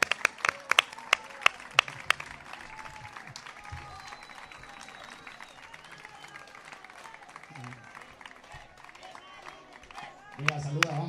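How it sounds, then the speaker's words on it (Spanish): An audience at a celebration bursts into applause, with a few sharp early claps swelling into sustained clapping and crowd noise, while a voice speaks over the start. "Pues un aplauso para ellos."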